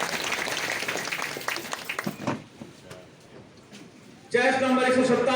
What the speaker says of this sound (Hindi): बहुत बहुत बधाई, जोरदार तालियां प्रभात के लिए।